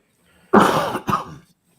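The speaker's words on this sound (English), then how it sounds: "it was just a cough that came up" A single person coughs sharply into a microphone during a talk show, a harsh burst followed by a shorter second cough, close and loud with no speech over it.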